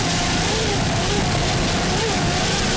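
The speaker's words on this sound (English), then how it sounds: "Listen to the Y-pipe hum on that thing." A racing powerboat at an offshore race in rough seas off Key West gives a steady, loud droning exhaust hum with a throbbing low rumble and wide broadband noise throughout, without pause.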